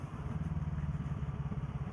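A rider's own motorcycle engine runs with a steady low throbbing pulse, close and continuous, without any talk over it.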